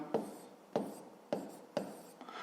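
Four crisp pen strokes on paper while writing out a fifth-grade maths solution, quiet and close, evenly spaced like short scratchy marks, with no talk.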